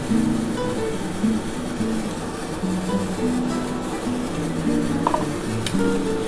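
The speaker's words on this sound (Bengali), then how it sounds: "এবার ভালো করে কিন্তু মশলাটার সাথে কষাতে হবে।" Spice masala for a spicy restaurant-style egg curry is stirred and scraped in a pan with a little added water, giving continuous soft scraping and faint sizzle over a steady background hum.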